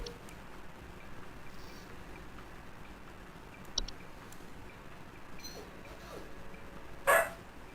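A dog in the Home Safety Hotline video game gives a single short, sharp bark near the end, loud against an otherwise quiet, faint background with a small click a few seconds earlier.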